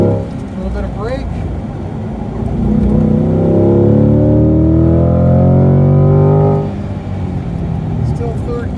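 A Chevrolet C8 Corvette engine on track swells in a rising drone while downshifting into third gear, loud and close from inside the car, with someone talking over it throughout.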